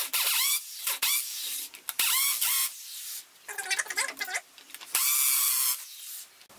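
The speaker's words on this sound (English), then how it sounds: "You can now go ahead and drill the points you've marked." A power drill boring holes through a Lexan plastic plate, heard as several loud, close bursts of whining drilling separated by short pauses.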